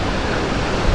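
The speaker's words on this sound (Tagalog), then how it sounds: "Yung alon dito hindi siya masyadong kalakasan. Pero doon banda malakas oh." Sea waves wash continuously onto a beach as a dense, loud hiss of surf with no breaks, close by and without voices.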